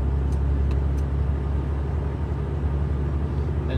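A car accelerates away from a traffic light, a steady close engine rumble heard from inside the vehicle with continuous low road noise and no talk.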